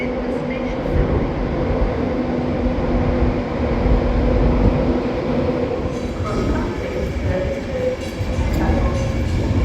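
Trains rumble steadily through a railway station, with low rolling noise and faint announcements and voices in the background.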